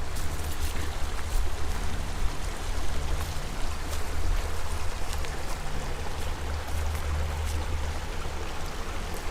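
A creek flows at the end of a path in brushy countryside, giving a close, steady rushing wash of water with a low rumble beneath and no talk.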